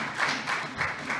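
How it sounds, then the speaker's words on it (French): A small audience at a short course closing ceremony claps briefly in a few rhythmic bursts, close and moderately loud, with no talking. "je demande que vous puissiez vous applaudir"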